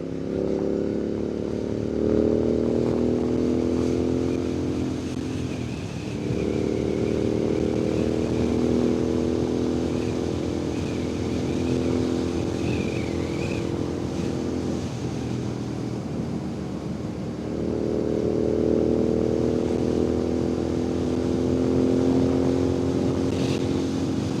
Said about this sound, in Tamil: 120 நல்லா புல்லிங், சரியான புல்லிங்காக இருக்குது வண்டி பைக்கு